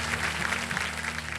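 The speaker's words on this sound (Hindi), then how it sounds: "और तालियों के साथ इनका स्वागत करते हैं" Studio audience applause on the TV quiz show KBC, a brief steady burst of clapping over a low sustained musical hum.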